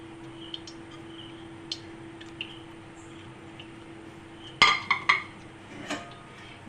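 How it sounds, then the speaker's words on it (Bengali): Stuffed semolina chamcham sweets are set one by one into a steamer pot, producing soft sparse taps and then a cluster of metallic clinks and knocks over a steady background hum. "এবার মিষ্টিগুলো আমি এখানে দিয়ে দেবো স্টিম করার জন্য।"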